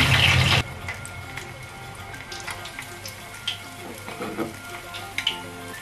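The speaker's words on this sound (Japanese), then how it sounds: "これでね、両面きつね色になるまで揚げていきます" Small sardines, dusted in potato starch, frying in heated salad oil in a pot until golden on both sides, a steady close sizzle with a loud burst at the start, then softer bubbling and occasional clinks throughout.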